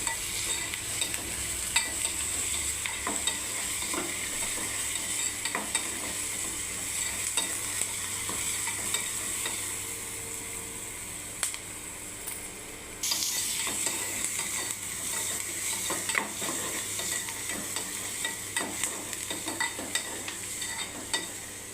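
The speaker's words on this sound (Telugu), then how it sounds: "ఇలా బ్రౌన్ కలర్ వచ్చేదాకా వేయించుకోవాలి." Sliced onions frying in a pan for Bondi curry, with salt added, cooked until brown; a steady close sizzle runs throughout under repeated scraping stirs, with no talking.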